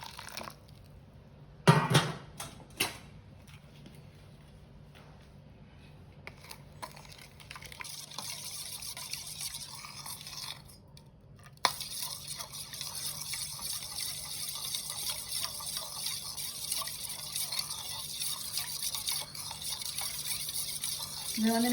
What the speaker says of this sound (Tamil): நல்லா சுடு தண்ணியை நாங்கள் விட்டு மிக்ஸ் பண்ணிக்கொள்ள போகிறோம்.